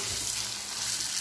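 Green chilli, garlic and curry leaves sauté in hot oil for a Rameshwaram-style fish curry, a dense, even sizzle held close and steady throughout the short stretch, with no voices.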